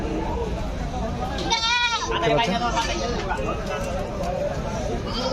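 Sheep bleat at a crowded cattle market near Ashulia where goats and sheep are also sold: one clear, quavering bleat rises briefly above the constant chatter of people talking nearby.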